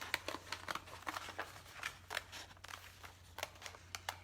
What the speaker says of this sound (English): helps to have some nice sharp scissors. And I'm going to trim off just the bird